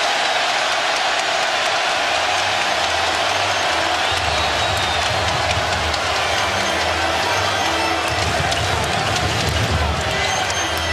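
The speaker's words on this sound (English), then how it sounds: "Crowd delighting in the air ball." Basketball arena crowd reacting loudly to an air ball during an NBA game, a dense continuous roar of many voices filling the space, steady throughout with no pauses.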